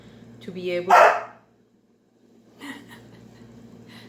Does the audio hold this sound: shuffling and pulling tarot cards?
no